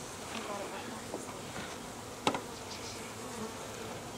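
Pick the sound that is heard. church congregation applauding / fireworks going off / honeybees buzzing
honeybees buzzing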